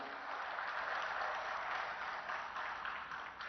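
A political rally crowd applauds a speaker, Arvind Kejriwal, as he is welcomed. The applause is a steady, fairly distant wash of many clapping hands with an even, unbroken texture.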